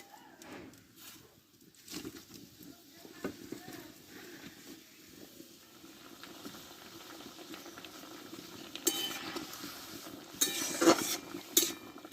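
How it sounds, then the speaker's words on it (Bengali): Cauliflower leaves simmer in a pot of salted water, a soft continuous bubbling with occasional clinks of utensils and louder splashy bursts near the end. "আমি আরও কিছুক্ষণ মতো ফুটিয়ে নেব"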